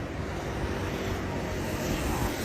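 A J18 dual-camera drone takes off in the rain, its rotors giving a close, continuous, high whirring drone at steady loudness.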